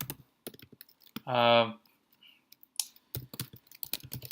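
Computer keyboard typing code for a LeetCode problem: scattered bursts of close, crisp keystrokes with pauses, and a short tonal burst in the middle.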